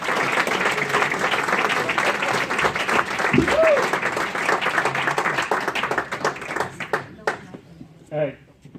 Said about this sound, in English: Put your hands together for Mr. Kent Lewis, everybody.